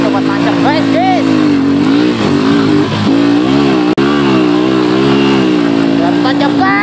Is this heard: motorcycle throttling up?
yes